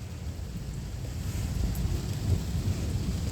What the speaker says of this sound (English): Is this a severe thunderstorm?